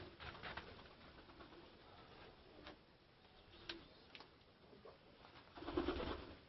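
Pigeons inside a five-year-old pigeon tower give soft, low cooing calls amid faint rustling and occasional sharp taps, with a fuller burst of cooing and fluttering near the end.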